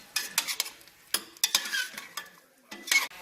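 Shrimp being stirred with enchilada sauce in a pan for Michoacan-style enchiladas: irregular scraping and clinking of a utensil against the pan in short bursts over a soft sizzle, close up and with no talking.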